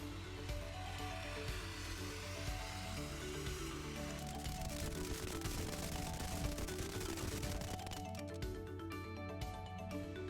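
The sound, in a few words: fireworks fired at spray foam with thermal ignition barrier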